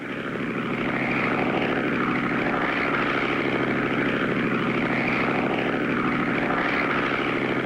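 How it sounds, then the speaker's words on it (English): A propeller crop duster plane drones steadily and loudly over rows of cotton in a classic cartoon, its engine holding a constant close roar with slight swells as it passes, with no voices. "Clutch and Company make pass after pass up and down the rows of cotton until they reach the final row"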